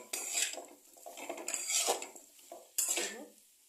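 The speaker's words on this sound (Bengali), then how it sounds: "আমি এখানে ভাজা করে রাখা আলু সয়াবিনগুলো দিয়ে দেবো।" Fried potato and soybean chunks drop into a pan and get stirred, making three distinct bursts of metallic scraping and clattering against the pan, close and fairly quiet, with softer rustling between.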